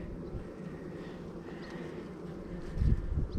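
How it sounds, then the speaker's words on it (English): Honey bees buzzing in a low, steady drone around an open hive during an inspection, with a louder burst of handling noise near the end. "we try and disturb the bees as little as possible"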